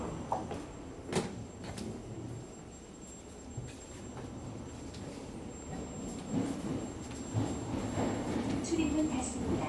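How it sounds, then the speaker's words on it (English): Seoul metro train doors slide open at a station, with a few clattering thumps over steady rail rumble and a voice announcement in the carriage. "도어가 열립니다."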